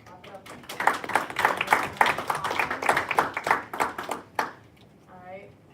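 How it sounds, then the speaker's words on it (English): Students clap after a motion passes at a student government senate meeting, a dense burst of handclaps building and then tapering off, with a voice speaking briefly at the end. "Okay, so clap it up."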